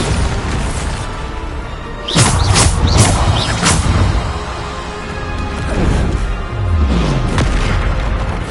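A Bombarda blast spell goes off in a Hogwarts video game, booming impacts and crashing bursts arriving in a cluster near the middle over steady game background noise, then another heavy thud toward the end.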